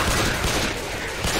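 Rapid burst of gunfire in Left 4 Dead 2, a dense, loud fusillade of overlapping shots filling the whole brief moment.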